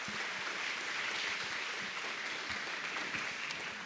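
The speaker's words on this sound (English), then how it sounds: "a round of applause" Audience at a chamber of commerce awards ceremony gives a steady round of applause, dense and even clapping filling the room throughout, with no voices standing out.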